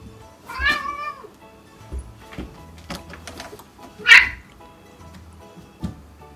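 A young kitten named Trash meows loudly once in a sharp rising cry, with softer mews and small household rustles scattered around it at close range.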